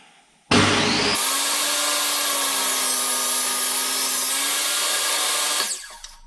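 A workshop power saw rips a length of wood into one-inch-square drawer runners for a Shaker side table: a sudden loud start, then one steady, continuous close cutting whine for about five seconds before it winds down.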